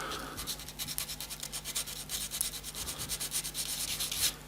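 Close, steady rubbing scratches dragged repeatedly across an acrylic snooker cue badge, a dry rasping texture in quick, uneven strokes with no talking.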